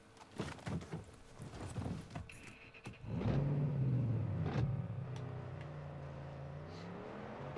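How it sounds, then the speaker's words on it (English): A car in the open-world shooter Far Cry 6 is entered with door and cabin clunks, then its engine starts and holds a steady, fairly loud drone as it drives off, with no voices. "Let's hop back in the car."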